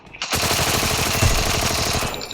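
Rapid automatic gunfire in the Free Fire Max battle royale video game, a dense burst of shots hitting an enemy, loud and continuous for about two seconds with no talking.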